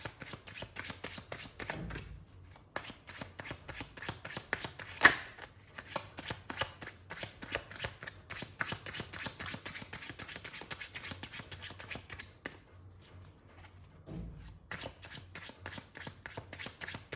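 Playing cards are shuffled by hand for a card reading, giving a quiet, steady run of rapid riffling and flicking snaps that continues throughout with no talking.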